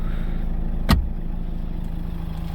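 The engine of a Nissan NV200 van idles steadily with a low, even hum. A single sharp click or knock cuts in about a second in.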